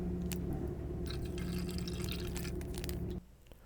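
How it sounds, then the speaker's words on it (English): Descaling solution poured from a packet into the water tank of a Nespresso Essenza Mini: a close, steady trickle of liquid for about three seconds that stops abruptly. "open one of the descaling solution packets. Pour it into the water holder."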